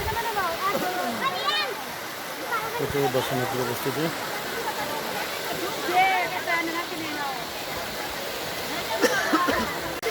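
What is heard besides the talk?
waterfall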